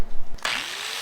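A power tool grinding down metal workbench parts in a garage shop, a short burst where the tool spins up, then a sustained bright whining grind against the metal.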